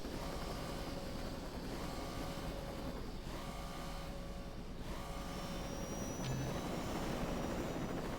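A helicopter flies in Saints Row 2, its rotor and engine droning continuously and loudly at close range with no talk.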